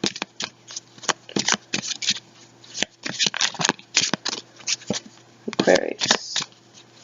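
Oracle cards are shuffled close up in a rapid run of papery riffles and flutters, repeating in bursts over a faint steady hum, with a voice talking at times.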